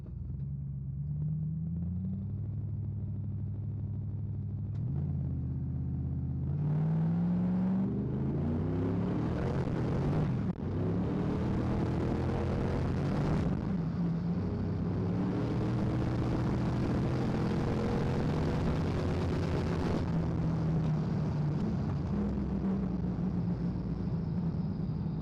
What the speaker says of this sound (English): I launched it okay off the line